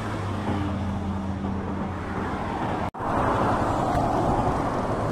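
Traffic on a highway leading to Rawang makes a steady, moderately loud roar of passing vehicles and wind, broken by a brief dropout before the rumble returns slightly louder.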